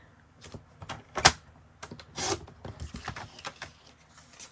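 Tim Holtz paper being cut by hand at close range: a handful of short, crisp snips and scrapes scattered over a few seconds, with one sharper cut and a longer rasping pass, and no talking.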